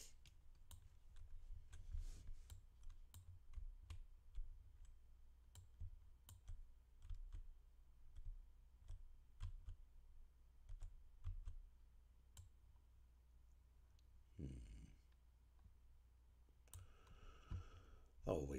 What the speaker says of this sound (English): you gotta love it when your keyboard messes up first thing in the morning.